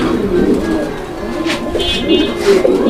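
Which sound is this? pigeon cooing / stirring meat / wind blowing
pigeon cooing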